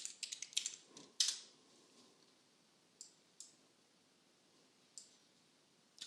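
A quick burst of keyboard clicks, followed by a few scattered single key taps in a quiet room.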